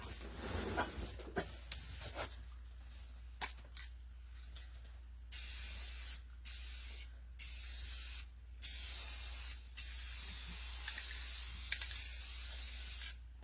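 Gloss coat sprays from an aerosol can onto a creature build, added to the eyes so they look shiny and wet, in five close, loud hissing bursts of about a second each, separated by short pauses.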